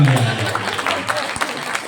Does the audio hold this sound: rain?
no